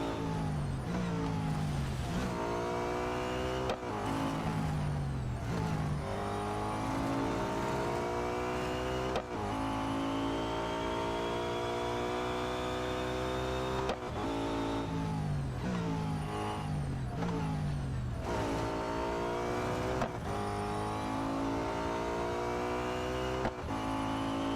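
A Nissan R390 GT1 race car in Real Racing 3 screams through repeated high-revving acceleration runs, its engine note climbing and dropping sharply at each gear change and braking point, loud and continuous throughout.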